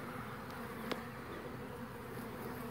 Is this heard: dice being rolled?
no